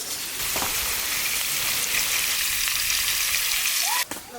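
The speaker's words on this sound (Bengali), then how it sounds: "প্রথমে পনিরটাকে একটু ভেজে নেব সামান্য লবণ আর হলুদ দিয়ে দেবো" Paneer frying in hot oil with salt and turmeric, a steady loud sizzle that runs continuously, with a brief clink of stirring near the end.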